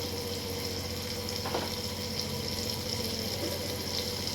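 Prawns for fish curry fry with turmeric in a small kadai, giving a steady, close, low hiss and faint crackle with a few soft stirring scrapes.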